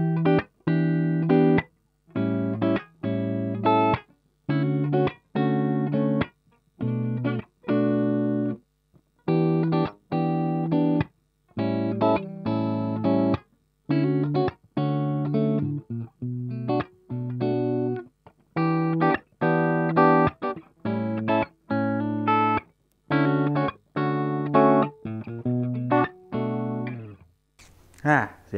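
An Epiphone Les Paul electric guitar with its pickups coil-split plays a run of short, choppy chords and notes, each struck and cut off in a steady stop-start rhythm, fairly quiet and heard alone.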